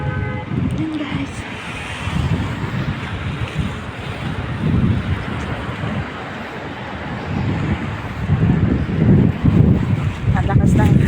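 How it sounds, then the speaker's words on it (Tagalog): Strong evening wind roars steadily into the microphone during an outdoor walk, buffeting and rumbling with gusts growing louder near the end, with faint voices underneath. "Ang lakas ng hangin."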